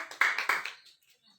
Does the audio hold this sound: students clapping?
yes